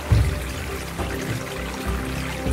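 Water pours steadily from Pivničná diera, a karst spring in the Slovak Karst near Kosatce by Gemerská Hôrka, a close, continuous splashing rush with no voices.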